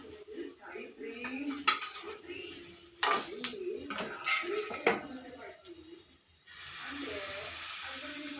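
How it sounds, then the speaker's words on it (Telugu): Pots, pans and utensils being washed in a home kitchen, with clattering metal clinks and scraping, someone talking over them, then a steady hiss of running water toward the end. "ఇదిగోండి గిన్నెలు ఉన్నాయి, గిన్నెలు కడగాలి"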